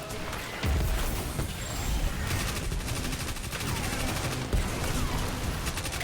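Sustained automatic gunfire in Destiny 2 during the Spire of the Watcher dungeon on Mars, loud and continuous bursts of rapid shots throughout with game effects layered in.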